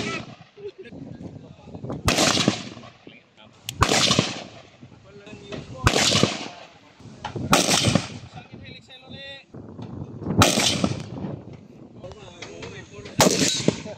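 Army fun shoot: sharp, loud firearm shots crack out one by one at irregular intervals, about seven reports over the stretch, with people talking between them.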